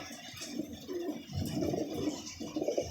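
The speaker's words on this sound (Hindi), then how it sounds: "इंडियन कबूतर है" Indian pigeons, an old breed kept in a loft setup, cooing in low, throaty murmurs that rise and fall steadily at moderate distance, with faint background noise.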